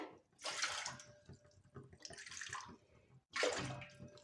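About two and a half cups of water poured into a cooking pot for kesari bath, heard as three separate splashing pours with short pauses between, fairly close and quiet, no talking.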